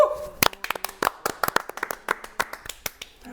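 A small group claps briskly and unevenly for about three seconds as a comedy show broadcast wraps up, with sharp, close hand claps that thin out toward the end.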